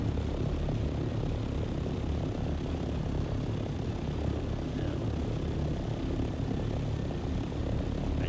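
An ornithopter in the game Dune: Awakening flies and dives with a continuous, steady whirring engine drone at constant loudness and no voices.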